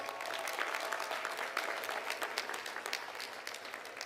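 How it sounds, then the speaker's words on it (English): Audience applause at a spring commencement ceremony honoring newly commissioned second lieutenants, a steady wash of clapping from a large crowd, fairly distant and sustained throughout. "Please give them a round of applause."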